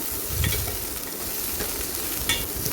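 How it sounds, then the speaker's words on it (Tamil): Chopped medium onion stirred and sautéed in a hot pan for ladies finger (okra) sambar, giving a steady close sizzle with scraping stir strokes throughout, no talking. "சும்மா கொஞ்சம் அப்படி வதக்கி விடலாம்"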